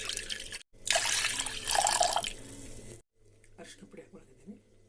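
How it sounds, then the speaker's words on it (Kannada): Water pours into a pressure cooker holding washed toor dal in a home kitchen, a steady broadband splash for about two seconds after a brief gap, then fading into softer scattered clinks and trickles. "ಇದಕ್ಕೆ ನೀರು ಹಾಕೋಣ."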